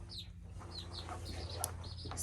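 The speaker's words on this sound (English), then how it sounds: "one hen in here who is an angry hen. She is broody and moody." An angry broody hen in a nesting box gives short, scattered clucks and chirps over a steady low hum of the coop, with a brief rustle partway through.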